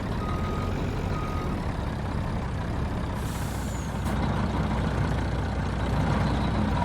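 A truck in Farming Simulator 19 backs up, its low engine rumble steady throughout, with a brief air-brake hiss and faint reversing beeps in the mix.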